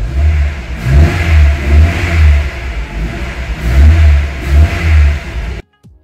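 A Mercedes engine with KE-Jetronic fuel injection and a faulty pressure regulator revs in several uneven, surging bursts with hesitant acceleration, loud and close with no talk, then cuts off abruptly near the end.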